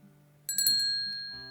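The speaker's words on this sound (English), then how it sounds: "Pushing open the glass door, the chime of the welcome bell rings out" A welcome bell on a restaurant's glass door chimes as the door is pushed open, a few bright ringing strikes that ring out and slowly decay over a soft background hum.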